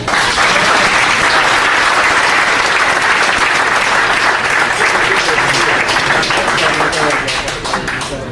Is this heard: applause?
yes